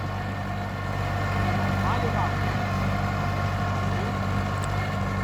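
Mahindra 575 DI tractor with a faulty gearbox, running with a steady low engine drone and a harsh mechanical whine on top, close and continuous for a few seconds.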